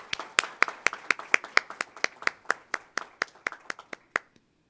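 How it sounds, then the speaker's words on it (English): A small audience claps at an awards ceremony honoring women's achievement, a sparse run of distinct, fairly close hand claps in an even rhythm that slows and fades toward the end. "Let's give a round of applause for Summer Cottrell."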